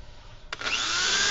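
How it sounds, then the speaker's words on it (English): A quiet background gives way to a click, then a steady, rising high-pitched power drill whine, drilling through the end of a piece of bamboo, that continues loudly to the end. "I'm going to put a hole through here, just the end, and then set it there, and then drill"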